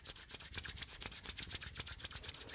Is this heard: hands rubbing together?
yes